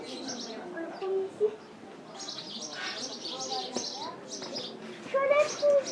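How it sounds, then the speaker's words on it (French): Small birds chirp and sing at a birds-of-prey show at a monument, high twittering calls scattered through the clip under and between people talking. "On entend les petits oiseaux aussi."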